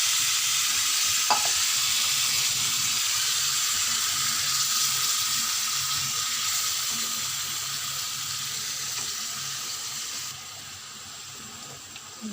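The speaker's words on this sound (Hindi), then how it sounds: "अब हम इसमें थोड़ा सा पानी ऐड करें, इतना सा ही, तकरीबन" Spiced potatoes fry in a pan after a splash of water goes in, giving a loud, steady, close hiss and sizzle that softens slightly toward the end.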